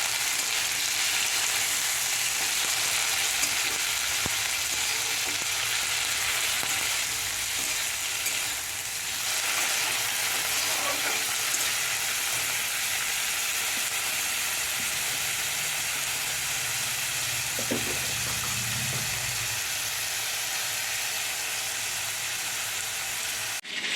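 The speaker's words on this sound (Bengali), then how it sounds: "কড়া এবার দিয়ে দেবো চিংড়ি মাছগুলো। চিংড়ি মাছগুলো অল্প ভেজে নেব।" Shrimp frying in a hot wok (kadai) for a pointed gourd and prawn curry, a steady, loud, continuous sizzle with no talking and only slight shifts as the pieces settle in the oil.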